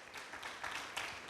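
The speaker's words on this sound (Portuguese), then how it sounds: "Podemos dar uma salva de palmas, irmãos?" A congregation in church applauding, a soft steady patter of many hands heard faintly from a distance, continuous and even for just over a second.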